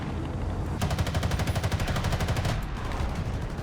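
A ground-attack aircraft, a Skyraider A4D in War Thunder, fires its guns at a PT-76 tank in a single rapid, evenly pulsing burst lasting about two seconds. The burst sounds close and loud over steady background battle noise.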